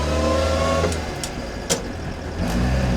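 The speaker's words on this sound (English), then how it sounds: "Let's see how fast this Crosley will go." A Crosley car engine labours in top gear, a steady mid-pitched drone with harmonic whine that dips and then rises again as it accelerates, close inside the cabin, with a few brief clicks.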